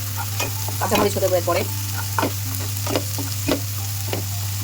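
Ginger, cumin, turmeric, coriander and chili spices frying in a pan for sour eggplant curry, a close continuous sizzle with stirring clatters and a brief spoken remark over it.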